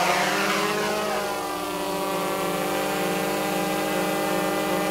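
A GoPro Karma drone's motors spin up for takeoff with a loud, steady multi-tone propeller whine and a rising pitch at the start, holding near and constant throughout.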